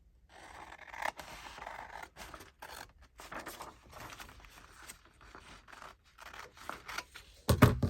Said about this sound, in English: so I have to hand cut it.